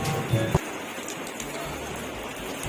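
Steady rain falls in a continuous close wash of hiss and patter, with a couple of soft thumps near the start and no voices.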